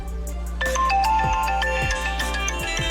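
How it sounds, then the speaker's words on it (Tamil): A mobile phone rings with a bright electronic ringtone melody of stepped tones over a steady low hum, heard indoors in a Tamil television drama scene, continuous and fairly clear with no talk over it. "சித்தப்பா, அந்த சாமியார் தான் ஃபோன் பண்றாரு."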